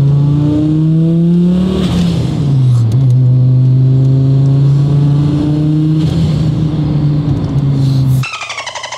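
Audi A4 with a five-cylinder engine driven on the street: a loud, close, warbling engine note rises and falls through several gear changes, ending with an abrupt cut near the end.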